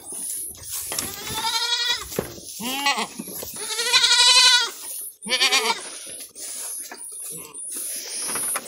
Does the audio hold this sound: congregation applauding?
no